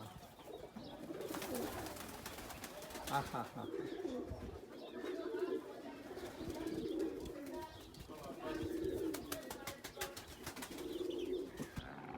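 Several pigeons coo softly and repeatedly nearby while someone speaks briefly over them, with some chirping and rustling in the background.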